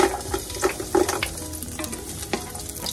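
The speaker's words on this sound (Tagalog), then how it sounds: "Ayan, mainit na itong ating kawali. Pwede na natin ilagay ang ating bawang." Garlic for chicken tinola sizzles and crackles in a hot pan of oil, a steady close frying hiss with a few louder spits and stirring scrapes, no talking.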